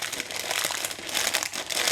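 A crinkly plastic bag rustles and crackles as a peanut bar inside is broken into smaller pieces by hand, with close, irregular crumpling bursts throughout.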